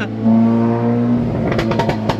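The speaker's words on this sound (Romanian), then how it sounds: "Este o mașină foarte nervoasă, man!" Close, loud engine revving from a Lamborghini Urus, a strong steady drone that gives way to sharp throttle blips toward the end.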